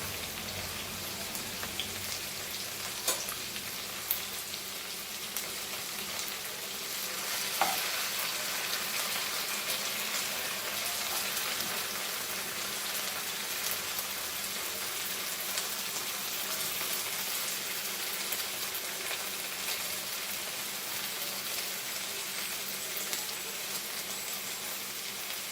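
Cumin seeds sizzling in hot oil for a Goan pork sausage and okra dish, a steady soft crackling hiss with occasional faint pops, continuous and moderately quiet.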